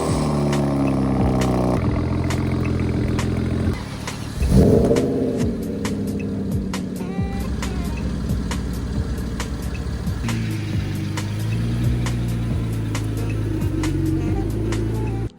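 A BMW rumbles nearby at idle, then its engine swells and revs as the car is moved and pulls away, with some clatter; no one speaks.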